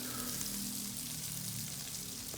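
Menudo ingredients fry and sizzle in a pan on high heat, a dense, continuous hiss with crackling spatter, close and steady without talk.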